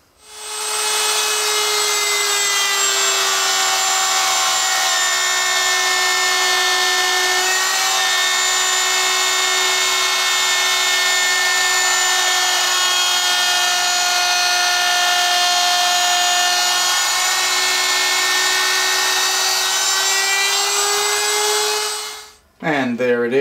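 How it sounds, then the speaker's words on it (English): A router cuts a stopped groove into a wooden bread box panel, running as a loud, steady high-pitched whine for about twenty seconds before spinning down abruptly. "we want to route it from this top edge right down and stop it inside of our 9/16 tambour track"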